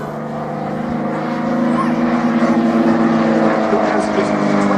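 A 28-horsepower scale model aerobatic propeller plane at an airshow, its engine droning steadily and loudly with a slight rise in intensity partway through, a continuous buzzing hum.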